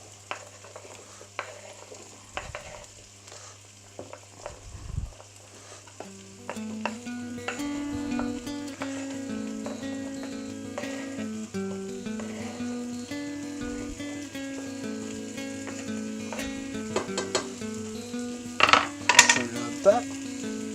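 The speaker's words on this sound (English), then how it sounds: "Give it a rough shake and it's sizzling away." Sweet potato, butternut squash, red onion and garlic sizzle in a pan, a steady soft hiss with stirring scrapes, clinks of a utensil and a sharper clatter near the end.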